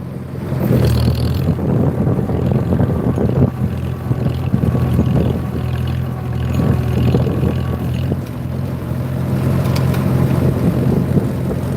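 A tractor engine runs steadily near geese on a South Dakota farm, a low continuous rumble with wind buffeting the microphone throughout, no voices.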